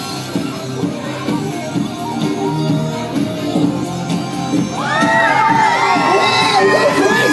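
A live audience at a Wheel of Death stunt show at Butlins Minehead whoops, cheers and screams, the crowd noise rising into a loud burst of high-pitched shrieks and cheering over the last few seconds.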